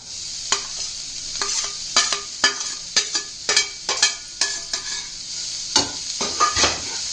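Onions hitting hot oil with spices in a pan on low gas, sizzling steadily while a utensil stirs and scrapes in a run of sharp, repeated clicks and knocks, close up with no talking.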